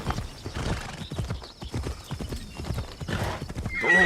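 Horse hooves clip-clop steadily along a road in a medieval feudal-era video game, with a horse neighing near the end; the hoofbeats are close and fairly loud, with some game ambience around them.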